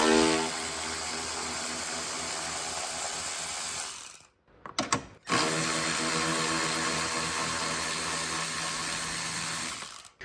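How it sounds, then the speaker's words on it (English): Steady mechanical clatter of a ratchet with an extension working out 10mm bolts near the coolant reservoir of a Jeep Grand Cherokee, continuous and close, broken by a brief pause midway before resuming. "the 10mm socket I mentioned and the ratchet and the extension is gonna be to remove these two 10mm bolts"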